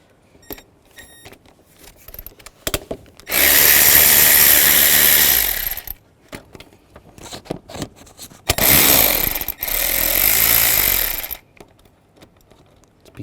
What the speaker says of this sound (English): take these 4 bolts out of the throttle body